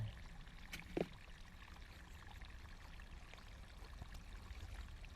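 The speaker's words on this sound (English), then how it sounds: "Fair bit of water in this one. It will take some time to come out." Water draining out of a sealed unit, a steady low pour and trickle running continuously with a brief splash near the start, quiet and close with no voices.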